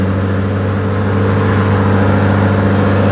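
A small engine on a farm at lambing time drones loudly and steadily close by, its revs holding high with a rough, buzzing hum and no voices.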